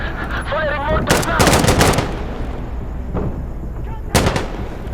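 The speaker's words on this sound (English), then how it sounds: "Yes, firing mortars" Mortar fire in the video game Insurgency Sandstorm: a cluster of heavy booming reports with crackling gunfire, then a quieter stretch before another sharp burst.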